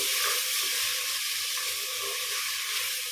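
Chopped onions and ripe tomatoes sauté in a pan for a tangy brinjal and raw mango kara kulambu, giving a steady close sizzle and hiss throughout with no talking.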